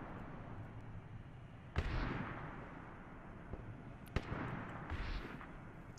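Warhammer 40k Titan firing in Arma 3, heard as two sharp distant booms a couple of seconds apart over a low rumbling battlefield background, faint overall.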